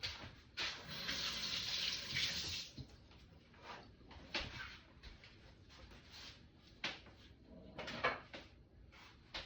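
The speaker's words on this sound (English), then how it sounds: "I'm gonna put some water in here." Water runs into a cooking pot, a steady rushing flow for a few seconds, followed by scattered knocks and clatters of kitchen handling.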